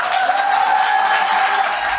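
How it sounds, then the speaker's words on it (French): A room full of people gives a round of applause at the close of a political gathering, a dense, steady clatter of clapping hands lasting about two seconds. "Salve d'applaudissements"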